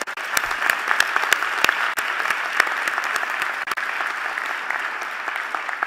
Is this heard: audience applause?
yes